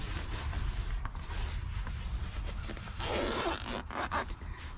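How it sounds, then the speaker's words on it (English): A zipper is pulled open on a duffel bag from an abandoned storage unit, a close, dry ratcheting rasp in several short pulls with small creaks and scrapes between them. "Oh, I didn't realize I had a zipper."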